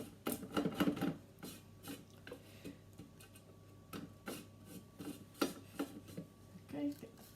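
Spatula scraping down the inside of a Thermomix TM6 bowl while making a tomato and basil gnocchi bake, with quiet rasping strokes in irregular bursts against a low appliance hum.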